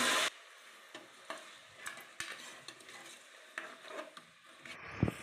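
Green peas being stir-fried in a pan for vegetable kurma, with a faint sizzle behind a series of distinct scraping and clinking stirs spaced irregularly, heard close and alone.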